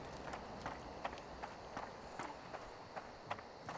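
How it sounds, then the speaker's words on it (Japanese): Footsteps in the horror video game Horrorfield: quiet, evenly spaced steps about twice a second, faint and steady throughout, with no talk over them. "何か足音が聞こえる感じですけど"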